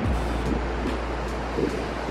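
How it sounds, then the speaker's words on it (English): Steady wind roars against the microphone on a seaside balcony, with a low constant rumble and brief gusty bursts throughout. "it's really windy"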